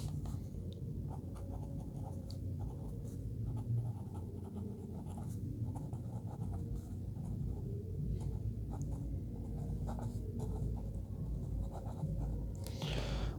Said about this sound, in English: can it write in a reverse nib?